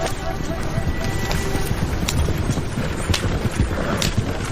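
Hooves of a horse-drawn carriage clip-clop steadily and continuously in a story sound effect, set against a rough, windy background noise.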